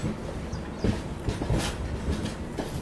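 A train rolling along the tracks as it diverges from the main line near a station on the Mumbai suburban route, with steady rumbling, rhythmic wheel clatter and a few sharper clanks over the points.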